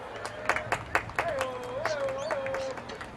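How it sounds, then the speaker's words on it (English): Scattered claps from a modest crowd follow a tumbling exhibition at a 2009 gridiron football game, with distinct hand claps breaking through under an announcer's voice and a whistle-like tone. "Let's everyone give Jennifer a great hand of applause."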